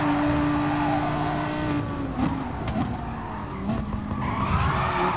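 Race cars in Gran Turismo on the Dragon Trail circuit skidding with loud tire squeal and engine howl, followed by a few sharp impact thumps of contact, close and continuous.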